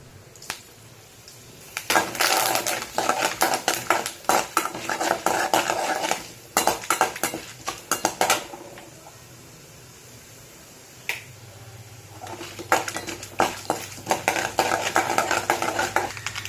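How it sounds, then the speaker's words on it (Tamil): Mustard seeds and curry leaves spluttering in hot oil, with bursts of sharp crackling pops in two busy stretches separated by quieter gaps, along with metallic clinks of a utensil against the pan. "கடுகு நல்லா பொரிஞ்சிருச்சு."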